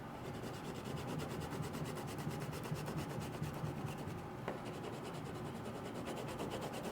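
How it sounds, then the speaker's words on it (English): A dark brown crayon is rubbed back and forth across paper in quick, even strokes, making a steady, close scratching rasp that runs without a break and without any voices. "I'm going to take my mahogany or darker brown crayon, and I'm going to color Oscar."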